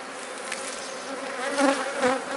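Italian honey bees buzzing steadily at an open hive, a dense, close swarm drone that swells slightly toward the end with no voices over it.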